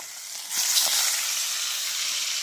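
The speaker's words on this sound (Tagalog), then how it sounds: "Iba pa naman ang bangus pag prituhin kay sobrang talasik ang mantika, di ba?" Milkfish frying in hot oil, a loud steady sizzle that swells as the fish goes in, with crackling spatters throughout and no speech.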